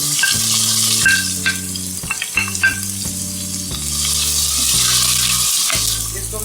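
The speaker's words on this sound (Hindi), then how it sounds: "अब इसी ऑयल में हम प्याज डाल देंगे" Half a kilo of onions frying in oil for bhindi masala produces a loud, steady sizzle, with stirring scrapes and a low tonal hum running underneath.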